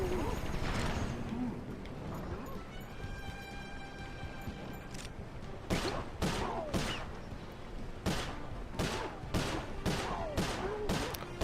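Rapid bursts of gunfire from the video game Sly Cooper: Thieves in Time, loud and close, with several sharp shots landing in quick succession over a busy layer of game effects and background tones.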